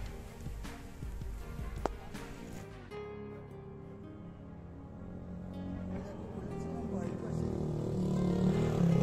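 A motorcycle on a rocky, sandy trail at Mount Bromo volcano at dawn, its engine drone rising and growing louder toward the end, with voices talking over it.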